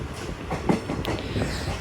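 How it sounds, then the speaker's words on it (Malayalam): A loaded freight train rumbles steadily past at a station, wheels clacking over rail joints in an irregular rhythm, close and fairly loud with no voices. "ഇത് വലിയൊരു ലോഡ് കൊണ്ടുപോകുന്ന ട്രെയിനാണ്"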